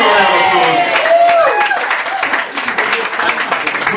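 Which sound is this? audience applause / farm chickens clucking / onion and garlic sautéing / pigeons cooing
audience applause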